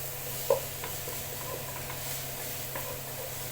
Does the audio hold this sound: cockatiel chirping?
no